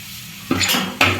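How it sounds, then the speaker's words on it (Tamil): A utensil scrapes and clatters against a pot while stirring sizzling mustard seeds and fenugreek for a dried fish curry, two sharp stirring strokes over a steady frying hiss, close up. "நல்லா கிளறி விட்டுக்கலாம்."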